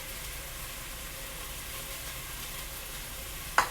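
Onions sauteing in a pan for chicken tortilla soup give a soft, steady sizzle at low level throughout, with a brief clink near the end.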